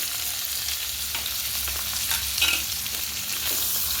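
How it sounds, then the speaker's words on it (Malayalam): Garlic, ginger, green chilli, curry leaves and crushed pepper frying in hot coconut oil, a steady close crackling sizzle with brief stirring scrapes partway through. "ഇനി നമുക്കിതിലേക്ക് വെളുത്തുള്ളി, ഇഞ്ചി, പച്ചമുളക്, വേപ്പില, കുരുമുളക് ചതച്ചത് ഇതെല്ലാം കൂടി ചൂടായ വെളിച്ചെണ്ണയിലേക്ക് ഇടാം."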